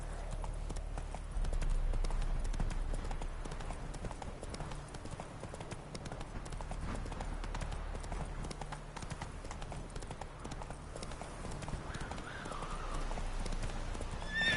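A horse gallops in the video game The Witcher III. Its steady, rapid hoofbeats are loud and continuous, with a whinny near the end.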